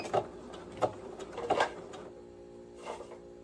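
A sewing machine runs a basting stitch along a 5/8-inch shirt seam in short, uneven bursts of mechanical chatter, with pauses between them, fairly close and moderately loud.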